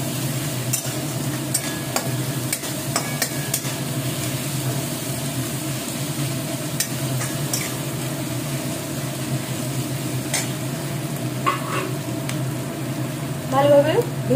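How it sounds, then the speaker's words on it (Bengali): Onion, ginger, garlic, chili and spices fry together in a pan for chicken pulao, with a steady low sizzle and repeated sharp scrapes and taps of a spoon as the mixture is stirred. "ভালোভাবে ভেজে নিচ্ছি।"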